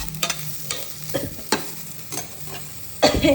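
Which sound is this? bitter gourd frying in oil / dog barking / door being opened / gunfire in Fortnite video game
bitter gourd frying in oil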